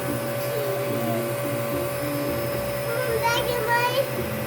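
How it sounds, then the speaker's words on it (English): A household vacuum cleaner picking up a spilled cinnamon roll mess indoors, its steady motor hum running throughout at moderate level while a child and an adult talk over it. "Is that your vacuum?"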